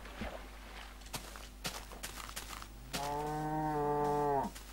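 In Minecraft, a few soft footsteps on the ground are followed by a cow letting out one long, clear moo close by.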